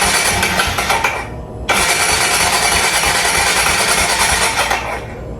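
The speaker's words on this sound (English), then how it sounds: "So when you give it throttle, it dies out." A motor runs rough and loud up close, then sputters and cuts out for a moment when throttle is given before catching again and running on, fading near the end.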